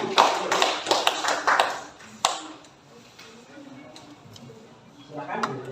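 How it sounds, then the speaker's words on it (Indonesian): A classroom gives a student who came forward a brief burst of scattered hand clapping, loudest at the start and then fading, with a teacher's voice speaking around it. "berikan tepuk tangan untuk dia yang berani maju."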